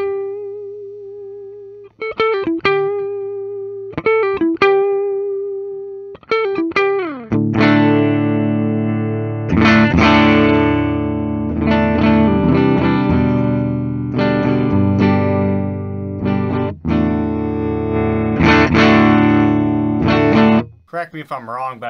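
A 2002 Gibson Custom non-reverse Firebird electric guitar in full humbucking mode plays through distortion, starting with sparse sustained notes and then moving into loud, thick chords and riffs with long ringing sustain.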